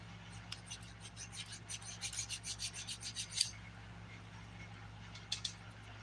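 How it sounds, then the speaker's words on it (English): Close, quiet rasping of a nail file scraping acrylic off fingernails, short rhythmic strokes in bursts over a low steady hum, with a couple of sharper scrapes toward the end. "I am filing that off."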